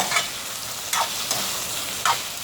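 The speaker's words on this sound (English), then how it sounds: "So as you can see, that's boiling, right?" Chicken rice soup boiling in a pot on the stove, giving a steady close hiss with a few sharper bubbling pops every second or so.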